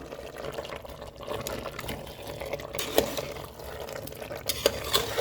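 Goat head curry being stirred in a pot right after turmeric goes in, a steady wet scraping and sloshing with a few louder clanks of the spoon against the pan, close and alone without talk.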